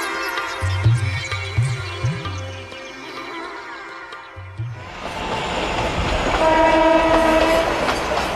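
A train on the line to the hill station at Simla clatters along at close range with rhythmic wheel knocks, then a long, loud horn blast sounds over the rumbling carriages.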